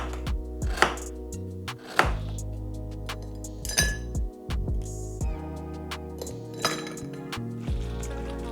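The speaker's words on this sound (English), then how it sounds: "I will be cutting down my ice to size as it's really not going to fit inside the glass yet" Ice is cut and shaved to size for a cocktail glass, producing a series of sharp, close knocks and clinks at irregular intervals with brief scraping between them, no voices.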